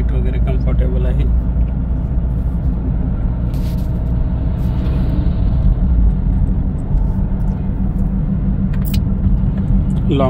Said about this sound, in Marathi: रनिंगला पण खूप स्मूथ चालते गाडी